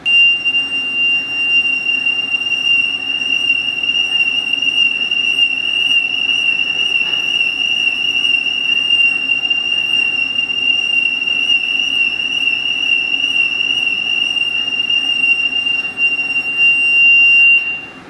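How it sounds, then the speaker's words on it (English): A sound source is whirled around a person's head, and a steady high whistling tone holds for about eighteen seconds from a fixed distance, with a faint wavering pitch over low background noise. "you should be able to now hear the Doppler effect when I whirl this around my head"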